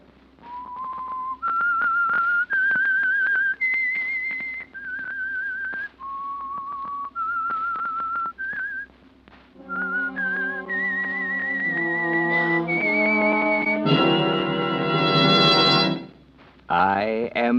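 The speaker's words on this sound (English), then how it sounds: "That whistle is your signal for the Signal Oil Program," A clear, melodic whistled tune rising through separate phrases, the signature whistle of the radio mystery drama The Whistler, then joined by a swelling orchestral chord near the end.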